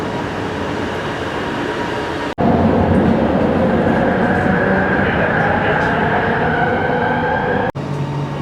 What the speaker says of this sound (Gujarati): આપણી આવી ગઈ છે લોકલ ટ્રેન એમાં બેસીને જવાના છે આપણે